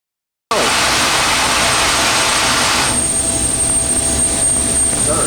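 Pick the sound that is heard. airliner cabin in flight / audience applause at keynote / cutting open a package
airliner cabin in flight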